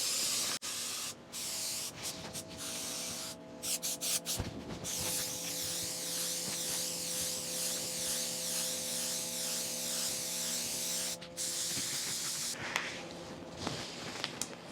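Long, loud bursts of hissing aerosol spray close up in a woodworking shop, broken by brief pauses and ending in a few short sputtering spurts, the spray pattern uneven and spider-webby.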